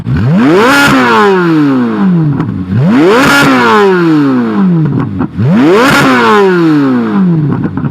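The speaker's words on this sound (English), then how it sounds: "That sounds really good for a stock exhaust, not gonna lie." Three loud, deep revs of a Chevrolet C8 Corvette Z06 on its stock exhaust, each rising sharply then falling away with a crackling, popping tail, repeating in steady rhythm.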